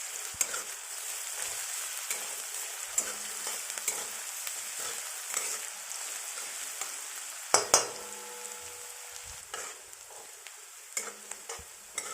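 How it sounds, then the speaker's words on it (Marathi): Chopped onion and green chili sizzle steadily in hot oil for a yellow potato curry, a continuous close frying hiss broken by a few louder spoon-and-pan clatters near the end, with no talking. "कांदा छान असा परतून घ्यायचा चवीपुरतं मीठ टाकायचं"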